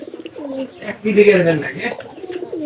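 Domestic pigeons kept in a loft coo in low, rolling, repeated calls close by, with brief higher chirps and a faint background murmur.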